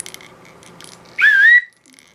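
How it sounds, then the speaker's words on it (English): A cheap little plastic survival whistle from a grab bag gives one short, shrill blast lasting under half a second, loud and close, after some faint handling rattles. "Crappy little whistle, but it works."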